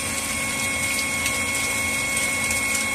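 A 12-volt water pump runs loud and close, a steady mechanical hum with a continuous rushing gush of water being pushed out.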